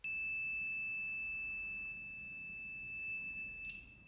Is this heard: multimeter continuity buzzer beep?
yes